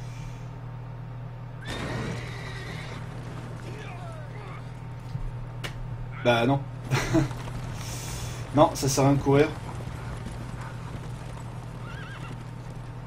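In The Witcher 3, a horse gives several loud whinnies with steady clip-clopping hooves beneath them, under a constant low hum, while someone talks in French over it.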